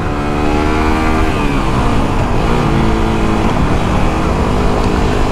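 Road traffic stuck in a jam, a loud steady drone of idling and revving engines close by, continuous throughout with no pauses.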